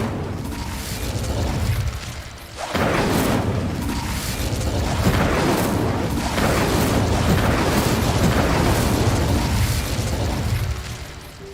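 An Incendio fire spell cast in Hogwarts Legacy: a loud burst, then a steady roaring rush of flame with crackling pops that lasts about nine seconds before it fades.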